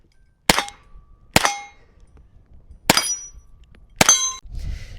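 Four sharp suppressed pistol shots through a Huxwrx Flow 9K Ti suppressor, spaced unevenly with a metallic ring and short ping on each, close and crisp against quiet background.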